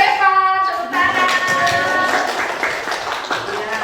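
Students in a classroom clap for a presenting group, a fairly close burst of mixed hand claps following a voice, with chatter underneath.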